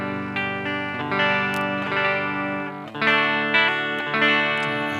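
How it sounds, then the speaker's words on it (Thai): Electric guitar run through a cabinet simulator effect with EQ set to fat, plugged straight into a sound card: loud, sustained distorted chords and notes that ring on continuously and change pitch every second or so, with no talking. "ตัวแรกเลยเป็นคาบิเนตซิมนะครับ อันนี้ต่อตรงเข้าซาวการ์ดเลยนะครับ"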